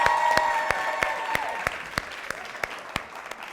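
Talk show studio audience applauding, a moderate burst of clapping that thins into scattered sharp individual claps, with a sustained tonal hum in the background early on.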